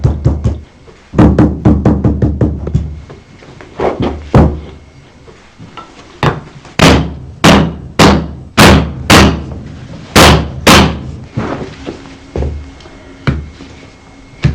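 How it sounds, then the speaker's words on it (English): Repeated sharp knocks as a stamped clay mould with a fish pattern is rapped from the bottom to drive out air, fast clusters of close, loud thuds at first, then slower, heavier single knocks spaced about a second apart. "Place it into the mould and knock it from the bottom to get rid of the air"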